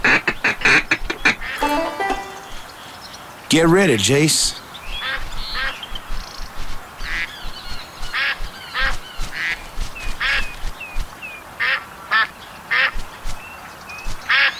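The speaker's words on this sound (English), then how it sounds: "Hey, there's some ducks coming in." Ducks quacking repeatedly as they fly in, in a Duck Dynasty hunting video game, with a burst of rapid quacks followed by a steady run of short calls; a person speaks briefly over the start.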